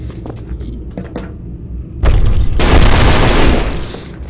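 Gunfire in the shooter game E.Y.E., with a few scattered thuds and clicks at first, then a loud, heavy sustained burst of shots booming close-up for a couple of seconds before easing off.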